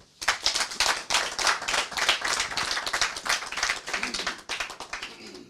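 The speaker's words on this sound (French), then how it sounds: "je prie le public de bien vouloir applaudir." Applause from a television studio audience fills the room, many hands clapping in a thick, sustained wash that begins suddenly and tapers slightly near the end, close and unaccompanied by speech.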